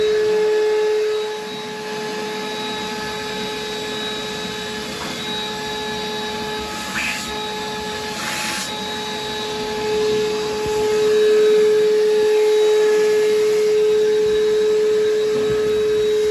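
A vacuum cleaner sucks debris out of the interior of a Dodge Dart during restoration, a steady loud whine with a sustained tone, with a few brief rattles of debris being drawn in and a swell in pitch near the end.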